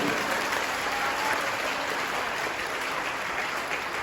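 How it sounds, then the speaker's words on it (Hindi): Loud, steady applause from a crowd honoring a revered guru, a continuous wash of clapping that stays constant throughout with no break. "जोर से ताली बजाइए।"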